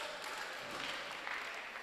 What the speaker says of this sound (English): Another round of applause for the choir master, and a round of applause to yourselves.